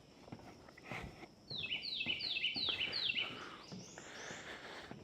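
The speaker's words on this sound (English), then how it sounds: "Oh, there's a bird. It's like the first one I've seen." A small baby bird in Corkscrew Swamp Sanctuary gives a quick run of about five high, clear chirps close by, set among soft footsteps and faint forest background.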